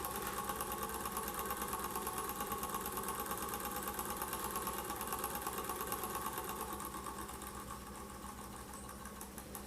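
An old Weeden 14 toy steam engine runs steadily and smoothly close by, a continuous fast mechanical whir and rhythmic clatter at an even pace, fading slightly toward the end.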